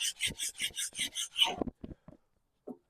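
A flat file rasps across a part from a 1921 Lister TM type stationary engine, seven or eight quick, even strokes up close, then a few scattered scrapes and knocks before it goes quiet.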